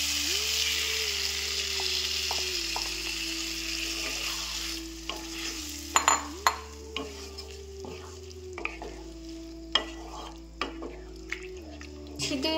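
Carrots, beans, paneer, cashews and raisins frying in a pan for veg dal, a steady sizzle with a spoon scraping and clinking against the pan in irregular bursts.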